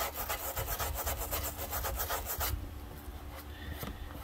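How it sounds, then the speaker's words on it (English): A brass brush scrubs buffing compound out of plastic on a Husqvarna in rapid, close back-and-forth strokes. The strokes get lighter and sparser toward the end. "Just take a brass brush."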